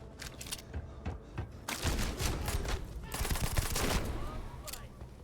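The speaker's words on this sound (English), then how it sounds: "Somebody getting shot." Rapid bursts of gunfire in the space video game Starfield, sharp cracking shots clustered in volleys with brief gaps, close and loud, with faint voices underneath.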